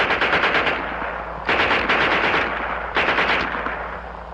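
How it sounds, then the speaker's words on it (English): A German Schmeisser submachine gun fires in three rapid bursts, each a loud, close string of sharp shots with echoing tails between bursts, no talking over it. "And here's their Schmeisser."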